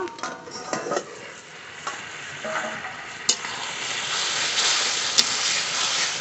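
Soft, steady sizzling of green chillies frying in a covered pan, growing slightly louder, with a few light clicks of stirring and no talking.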